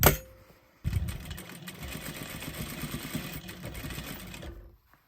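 A sewing machine stitches a pumpkin-shaped cuddle cup, running steadily for about four seconds after a brief start, with a continuous mid-level motor whir that stops near the end.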